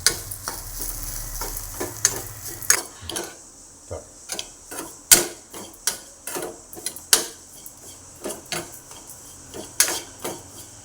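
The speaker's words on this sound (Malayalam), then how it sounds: "അപ്പോൾ നമുക്ക് സിമ്മിൽ വെച്ചിട്ട് നന്നായിട്ടൊന്ന് വറുത്തെടുക്കണം" Ingredients dry-roasting in a pan over a low flame, with a steady run of sharp spatula scrapes and clicks against the metal in an uneven rhythm over a faint background hiss, close by with no talking.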